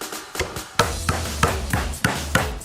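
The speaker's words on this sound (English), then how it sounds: "It's got a very tough shell, so we're gonna use the hammer." A hammer strikes a tough acorn shell to crack it: a run of sharp, close, loud knocks at a fairly even rhythm, heard alone.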